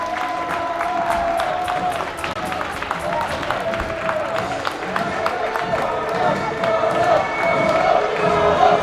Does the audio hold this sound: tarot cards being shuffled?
no